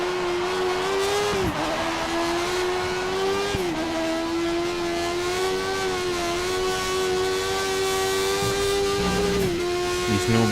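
A Formula 1 car laps the Catalunya circuit in the F1 2013 racing game. A high, continuous engine whine holds steady pitch, with brief dips at gear changes around the corners.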